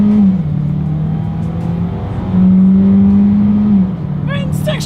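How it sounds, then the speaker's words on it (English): 2021 Hyundai Kona with a naturally aspirated engine under hard acceleration, a loud steady engine drone that climbs and shifts pitch in stages as it gains speed, with a brief voice near the end. "let's go ahead and do an acceleration test here, and let's see how quickly we can get the new 2021 Hyundai Kona here up to speed"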